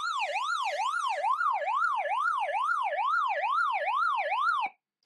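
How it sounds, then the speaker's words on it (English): A Greadio portable outdoor radio sounds its SOS alert, a loud wailing siren that sweeps up and down in a fast, regular cycle about a dozen times. It is heard alone with no talk and cuts off abruptly near the end. "So this has the SOS alert function."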